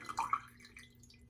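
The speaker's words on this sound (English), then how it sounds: "I'm just going to squeeze all the water out of it" Water squeezed from a soaked shaving brush: a brief faint wet squelch with a few light drips trickling off, quiet and close.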